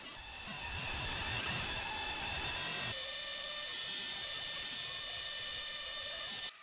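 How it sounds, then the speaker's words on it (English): Table saw ripping a maple or cherry board along the rip fence: a loud, steady high-pitched motor whine whose tone shifts as the blade cuts the wood, running for about six seconds before dropping off suddenly. "now I'll just finish squaring this up on the table saw, running the jointed edge along the rip fence."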